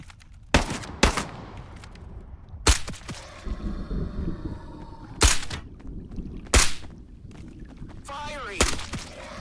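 Gunfire in the VR game Into The Radius 2: about seven loud, sharp single shots spaced irregularly, with a low rumble and a brief murmur of voice between them.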